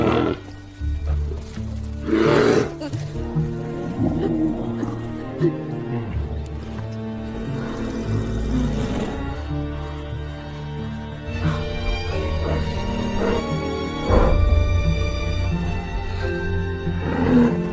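A bear roars and growls in a scene from the TV series Outer Range, rising in loud bursts over a dense, dramatic musical score that runs throughout.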